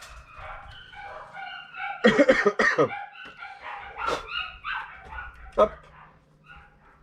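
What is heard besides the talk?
dogs barking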